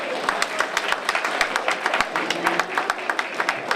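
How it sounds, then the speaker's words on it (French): Audience applause at a gathering, a rhythmic, fairly loud patter of many clapping hands heard nearby, with a voice faintly present underneath. "Je voudrais qu'on vous applaudisse"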